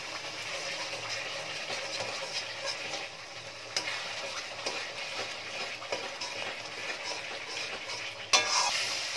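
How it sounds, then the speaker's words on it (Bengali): Masala for aloo dum frying and stirred in oil in a pan, a steady dense sizzle with scraping spoon strokes throughout and a sharper clatter near the end. "নাড়াচাড়া করতে করতে মশলাটা বেশ ভালো করে কষানো হয়ে গেছে, সাইড দিয়ে তেলও ছেড়ে দিয়েছে।"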